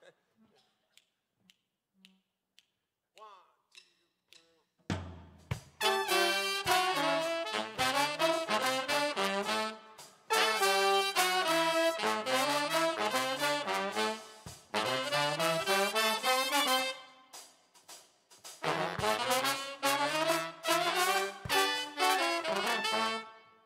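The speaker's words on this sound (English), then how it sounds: "there's a little interlude in this tune we're about to play for you, where just the horns are playing something" A live band's horn section plays a short interlude deliberately with sloppy articulation, following a few finger snaps counting in. Loud brassy phrases come in bursts separated by brief pauses.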